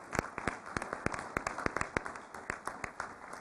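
A modest round of applause at a city council meeting, with distinct individual claps ringing out in a loose, uneven rhythm from a smallish group in the chamber.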